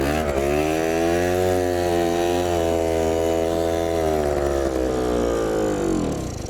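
An Adly engine running with an unusual new noise, a loud, steady buzzing drone whose pitch holds, then dips and rises near the end, with no talking.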